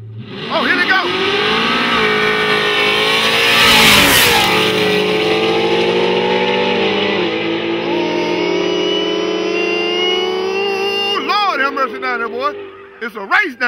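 Cars, including a Camaro, racing at a street race near a car wash, engines roaring loud and sustained with rising revs and a brief tire squeal near the end, while people talk and shout over the noise.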